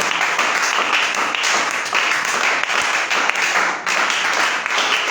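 A church congregation applauds in praise of the Lord, a steady, dense wash of many hands clapping at once that stays loud and even throughout without pause.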